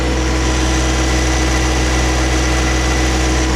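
A John Deere 1025R compact tractor's engine runs loud and close as the throttle comes up, a constant heavy mechanical drone with no break.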